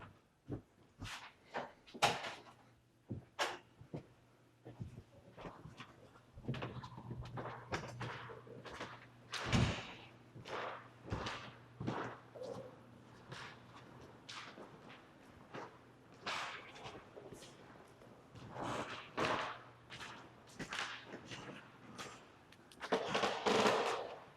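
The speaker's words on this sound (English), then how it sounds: "Knocking. Yep, that was loud." Loud sharp knocks strike inside a 130-year-old historic social club at night, scattered single raps and short clusters at irregular intervals, each a hard percussive hit over a quiet room hum.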